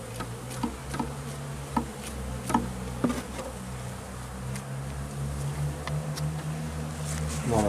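Honeybees buzz in a dense, continuous swarm while nucleus colonies are shaken into full-size hives, with scattered sharp ticks and knocks from the boxes and frames over the steady hum.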